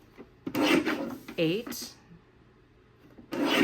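A paper trimmer blade slides through card kit pieces in a few short, rasping strokes, close by, with a person talking between and over the cuts.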